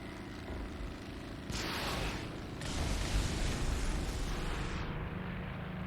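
Rockets strike ground targets in War Thunder from a P-47D, giving a rumbling explosive burst that swells into a sustained, loud roar over engine drone.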